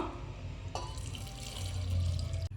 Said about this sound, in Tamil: வேக வச்சு வடிகட்டின தண்ணியை எடுத்துட்டுருக்கேன் இப்போ இந்த தண்ணியை அப்படியே சேர்த்துருவோம்